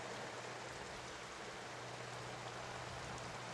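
Steady rain falls throughout, a dense even hiss with a faint low hum beneath, constant and fairly close, with no talk.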